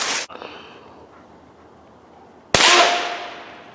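Two loud, sharp gunshots ring out while coon hunting with dogs, one at the very start and another midway, the second leaving a long fading echo through the night woods.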